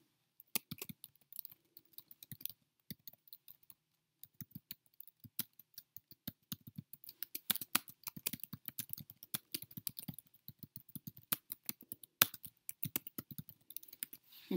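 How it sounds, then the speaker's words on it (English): Someone types a tweet on a computer keyboard in quiet, irregular bursts of crisp, close key clicks, with short pauses between runs of keystrokes. "I'm going to type in a tweet."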